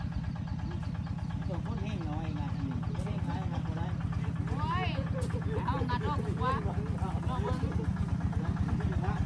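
A walking tractor engine drives a cement mixer on a rural building site with no electricity, chugging in a steady rapid rhythm close by, while people talk over it.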